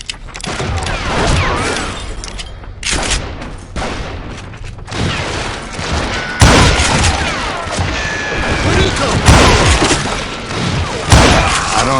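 Gunfire in the Western shooter Call of Juarez Gunslinger, a loud, close run of booming shots and volleys that fire in clusters over a dozen seconds.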